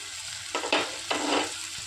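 Tomatoes sautéing in a pan for Kerala egg puttu: two short bursts of loud, close sizzling and stirring within a couple of seconds, with no voices.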